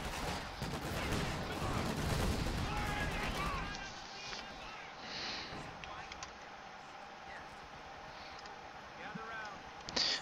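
An anti-tank gun hit in Company of Heroes 2 lands amid heavy battle noise. There is a dense, loud rumble of gunfire and explosions that drops off suddenly into quieter scattered battlefield sounds, with a late sharp bang.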